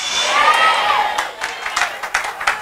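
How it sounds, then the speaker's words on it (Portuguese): Church audience cheers and claps, a loud swell of shouting voices that gives way to scattered claps and whoops, fading unevenly over a couple of seconds. "Não, mas irmão, não aplaudas à toa"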